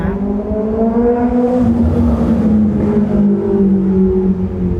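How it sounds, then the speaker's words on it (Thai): Loud, deep big motorcycles rev continuously nearby at night, their pitch rising and falling as the bikes accelerate past. "พวกบิ๊กไบค์นั้นวิ่งตอนกลางคืนนะคะ"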